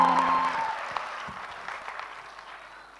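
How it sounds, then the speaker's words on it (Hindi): Audience at a Dev Anand film quiz event in Jaipur breaks into applause just as a voice finishes speaking, the clapping strongest at first and then gradually thinning and fading. "तालियां तो जोरों से बजाइए सब,"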